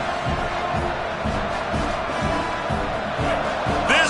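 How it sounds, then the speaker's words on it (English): A college football stadium crowd roars on fourth and goal, a dense and sustained cheer that swells near the end under a faint announcer's voice. "Crowd so loud, full throat on 4th and goal"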